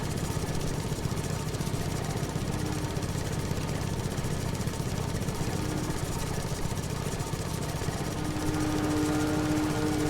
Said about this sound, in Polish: Jest to kosiarka od JMZ.